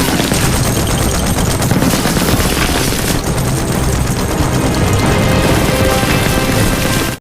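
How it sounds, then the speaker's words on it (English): Sustained machine gun fire in a trench battle scene from a war movie, dense rapid bursts with heavy rumble filling the whole stretch, loud and continuous with no voices. "But suddenly, Danny with his machine gun managed to kill all the German soldiers who approached the trench."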